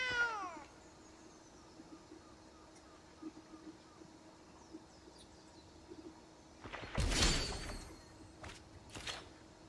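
Cat meow from the Sacred Cat card in MTG Arena: one clear, rising-then-falling meow at the start, then quiet game ambience with a burst of brighter card or effect sounds later.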